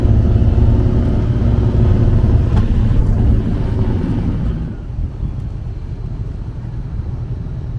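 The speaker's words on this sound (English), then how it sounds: "you can hear that motor revving up to take us off into the beautiful Mississippi River here" A ferry's deep, steady engine rumble on the Mississippi River with wind buffeting, heavy at first and then easing slightly as it continues, with no one speaking.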